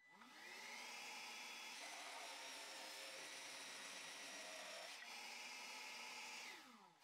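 Cordless Evolution R90JGS-Li jigsaw cutting through wood, a loud steady high-pitched buzzing whine that runs almost without a break, with a brief dip around the middle before the blade spins down at the end.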